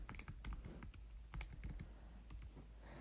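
Keys clack on a computer keyboard as a calculation is entered, with a quick, irregular run of close, quiet taps and clicks and no speech.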